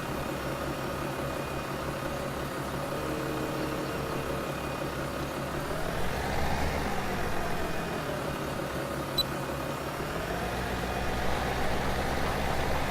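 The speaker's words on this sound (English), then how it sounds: "this is a 120 horsepower tractor." A 120-horsepower tractor engine in the video game Farming Simulator 17 runs as a steady, droning hum with a faint tonal whine, holding constant for the whole stretch with no talking.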